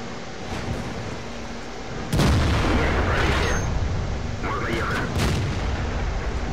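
Heavy tank cannon fire in the World of Tanks video game, including a 152 mm gun: a sudden loud boom that rolls into a long rumbling tail over steady engine noise.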